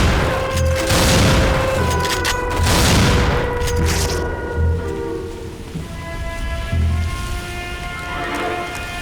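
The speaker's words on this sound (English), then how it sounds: "these guns are just so over the top, loud, weird that it was just deafening" Loud, booming gunfire from an original Xbox video game: dense bursts and blasts fill the clip continuously with rumbling low-end impacts and no speech.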